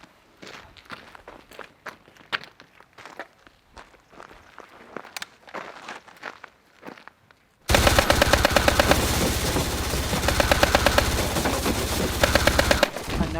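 A Cybergun licensed FN P90 airsoft replica fires: scattered sharp clicks and snaps, then a sudden loud, sustained rapid rattle of fire lasting about six seconds, close to the listener.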